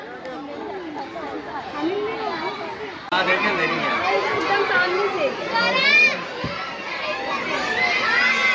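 A crowd of adults and children packs the viewing area at a tiger enclosure, with a dense, steady babble of overlapping voices, excited calls and children's shouts close around, growing louder partway through while people talk nearby.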